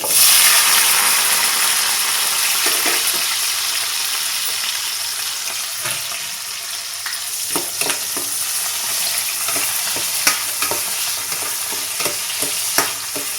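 Onion and tomato frying in a pan for a Rayalaseema mutton curry, a loud continuous sizzle with scattered scraping taps of a spoon stirring, no voices.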